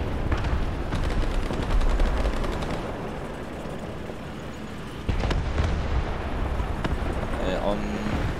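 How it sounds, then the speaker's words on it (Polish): Tank cannon fire in the War Thunder video game, loud booming shots around the start and again near five seconds, with a continuous rumbling battle din throughout; no clear speech over it. "Boże, strzał."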